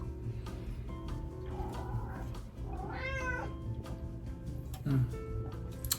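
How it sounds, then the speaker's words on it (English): A pet cat meows in a home, several drawn-out rising calls standing out near the middle and end, close and fairly loud over a low background hum. "he's just a very talkative cat"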